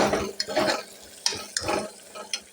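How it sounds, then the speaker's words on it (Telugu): Onion pieces fry in a pan until lightly browned, with a soft sizzle under repeated scraping stirs at a quick, uneven rhythm. Heard close up with no talking. "మగ్గిని ఉల్లిపాయ ముక్కలు బాగా ఎర్రగా మగ్గిని, ఇది బ్రౌన్ కలర్గా వచ్చినాయి లైట్గా."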